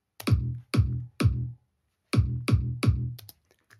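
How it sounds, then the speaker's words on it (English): Punchy electronic kick drum for an EDM anthem section, six isolated hits with a sharp click attack and quick low thump, played alone in an uneven sequence with gaps between them. "A punchy kick."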